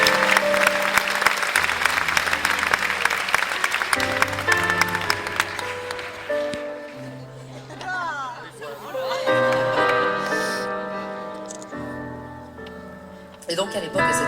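Concert audience at Le Liberté in Rennes claps for the drummer during a show, with lively applause, chatter and some laughter over sustained music tones and occasional talk.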